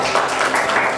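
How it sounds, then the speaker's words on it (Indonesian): A church congregation applauding during an online sermon service, a dense, steady wash of clapping that lasts only about a second and stays even and loud throughout. "Tepuk tangan Pastor Cici ya."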